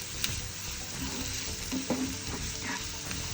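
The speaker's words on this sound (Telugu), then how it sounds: "పచ్చిమిర్చి వేసుకొని వేపుకోవాలండి" Thinly sliced onions and green chillies fry in hot oil in a pan, giving a steady soft sizzle and crackle with a few brief stirring scrapes, close and fairly quiet, no voices.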